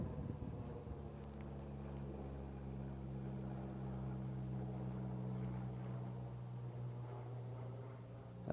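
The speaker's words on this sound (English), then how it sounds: "It's a quiet plane." Quiet, distant airplane passing over a forest, a faint steady engine drone that swells slightly and holds for several seconds without talk.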